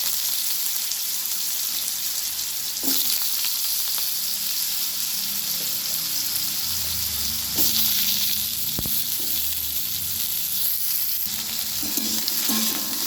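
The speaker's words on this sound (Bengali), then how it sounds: "ওই তেলের মধ্যে আমি দিয়ে দিলাম জিরে ফোড়ন, দিয়ে দিলাম তেজপাতা আর চেরা কাঁচা লঙ্কা, দিয়ে আমি আলুগুলো দিয়ে দিচ্ছি" Potatoes sizzling steadily in hot oil with cumin seeds, bay leaf and slit green chilies, a loud continuous hiss broken by occasional stirring scrapes and clanks.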